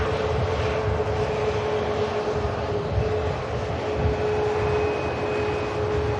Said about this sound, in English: And on the taxi out, we have a Jet2 321 as well. And we also have the Junyao 787 Dreamliner on the way out.